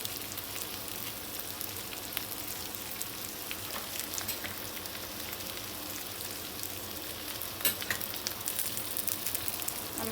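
Maggi goreng noodles fry in a pan over medium-high heat and get stirred now and then, with a continuous close sizzle and occasional louder scraping bursts.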